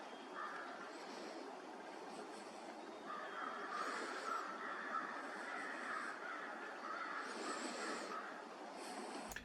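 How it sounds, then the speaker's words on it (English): Crows caw repeatedly in harsh bursts as a murder mobs a great horned owl outdoors, the calls layered and fairly distant over steady background noise. "that caused an entire murder of crows to attack him"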